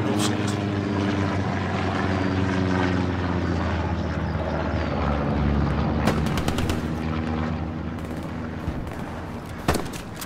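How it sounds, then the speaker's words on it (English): A recon plane in the video game Hell Let Loose drones overhead with a steady propeller hum that fades slowly, while scattered gunfire cracks and battle noise sound beneath it. "Recon plane incoming over Merritt."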